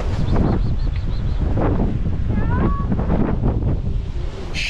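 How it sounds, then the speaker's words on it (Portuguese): Strong wind buffets the microphone at an open stretch of beach, a constant loud roar with a faint bird call and gusty rustle underneath. "Tá ventando muito."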